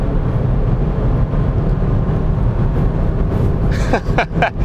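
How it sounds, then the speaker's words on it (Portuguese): A hybrid car accelerating hard with its combustion engine engaged alongside the electric motor, pushing past 100 to 160 km/h; a loud, steady interior engine and road roar fills the whole stretch, with a few brief bumps near the end. "Motor térmico entrou, acelerando bastante."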